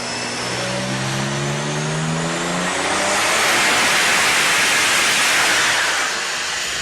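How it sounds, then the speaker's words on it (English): A Switzer Performance Porsche 997 Turbo with upgraded intercoolers runs on a dyno, its engine revving up loud and close into a roaring, rising sweep of turbo and exhaust noise that holds near full power. "Just check this dyno test out."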